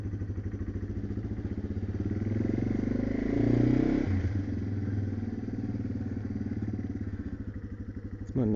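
Yamaha TW200 motorcycle under way on local Utah streets, its engine note swelling as it revs up then settling into a steady ride, close and continuous with no talk.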